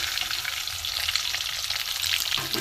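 Potatoes sizzle and crackle in hot oil, a steady frying hiss with occasional spatters, close and moderately loud.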